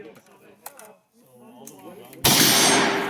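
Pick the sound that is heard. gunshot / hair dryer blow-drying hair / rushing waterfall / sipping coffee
gunshot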